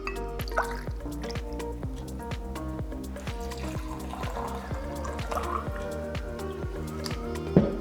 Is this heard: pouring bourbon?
yes